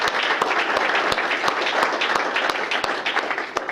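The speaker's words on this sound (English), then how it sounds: "So let's have a round of applause," A crowd applauds steadily at an employee recognition awards ceremony, many hands clapping in a dense, continuous wash with a few sharper claps standing out, no voices over it.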